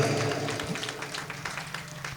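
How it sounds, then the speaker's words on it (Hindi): Applause from a crowd at a Jain foundation stone ceremony for a saints' hall, broad steady clapping that stays loud throughout and fades slightly toward the end. "श्री इंद्रसेन जी परिवार के सम्मान में जोरदार जोरदार जोरदार तालियां बजाइएगा"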